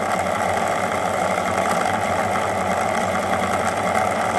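A simple homemade electric motor coil spins continuously, giving a steady, loud buzzing drone with a rapid fluttering rattle up close and no talking.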